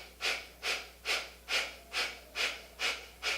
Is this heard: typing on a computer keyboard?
no